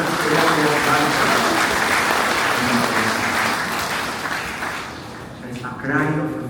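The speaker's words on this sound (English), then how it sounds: "Can we just clap our hands to Jesus for what he has done for" A church congregation clapping their hands together, a dense, loud wash of applause that fades midway and then picks up again, with voices mixed in.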